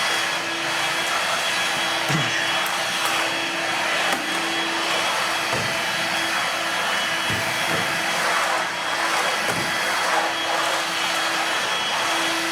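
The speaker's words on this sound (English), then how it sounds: "Hold on, I'm vacuuming this room." A vacuum cleaner runs in a room with a loud, steady whine and rushing air that continues for the whole stretch. There are a few faint knocks underneath and no voices.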